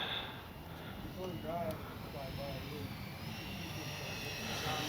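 An E-flite 90mm Viper RC jet flies overhead with a steady, hissing turbine whine at moderate distance, while people talk nearby.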